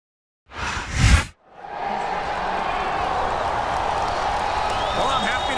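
Arena crowd noise from the WWE SmackDown vs. Raw 2007 wrestling video game, a steady broad roar of cheering that swells after a brief burst and stays loud throughout, with commentary voices at the start.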